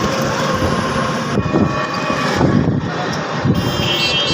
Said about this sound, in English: journey by train.